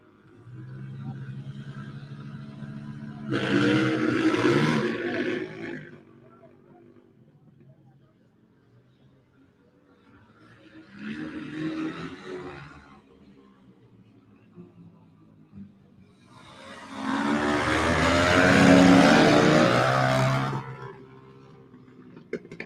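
Flat track motorcycle race on a short track with a Suzuki, a KTM and a Yamaha, engines swelling in loud bursts as the bikes pass, with quieter stretches between and a commentator talking throughout.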